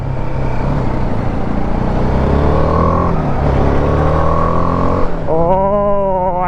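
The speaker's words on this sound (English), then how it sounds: "Oh, I love that exhaust note on this bike." A BMW G310 motorcycle engine drones steadily while riding, its exhaust note rising and falling with throttle, ending in a sharp higher-pitched rev.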